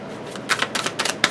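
Tarot cards being shuffled, a quick run of close, crisp riffling clicks in short bursts.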